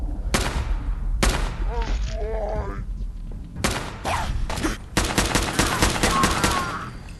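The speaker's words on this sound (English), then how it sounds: "I missed every single one of those shots." Rapid bursts of gunfire from the video game Fallout 4, several loud volleys separated by short pauses, with snatches of game dialogue between them.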